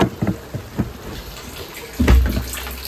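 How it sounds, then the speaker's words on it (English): Rainwater drips and splashes into a repurposed olive barrel used as a rain barrel, a few irregular close drops followed by a heavier splash near the end. "It is dripping a little bit from the ends there"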